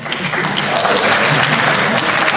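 A room full of audience members claps loudly to vote on a multiple-choice quiz answer, a dense continuous wash of hands that holds steady throughout.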